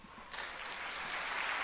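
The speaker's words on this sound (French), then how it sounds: "n'applaudissez pas trop parce que j'ai un temps limité" An audience at a conference applauds, a dense wash of clapping swelling from soft to steady and sustained, with no voices over it.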